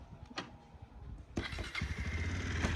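A motorcycle engine starts after a few faint knocks, catching at once into a steady running rumble that is fairly quiet and unaccompanied by speech.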